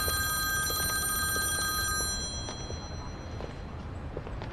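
A telephone rings with bright, repeating bell tones over a room's background hush. The ringing is strong for the first two seconds, then fades while a softer hum continues.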